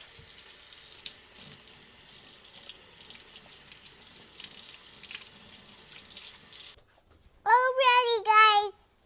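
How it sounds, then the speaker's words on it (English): A kitchen faucet runs steadily for several seconds as hands are washed during pancake preparation; then the water stops and a voice speaks briefly. "I'm washing my hands."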